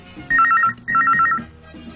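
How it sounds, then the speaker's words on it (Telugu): A telephone rings in two quick electronic bursts separated by a brief pause, loud and close, with no talking. "రింగ్ అవుతోంది"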